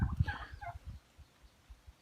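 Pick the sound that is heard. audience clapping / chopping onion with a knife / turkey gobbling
turkey gobbling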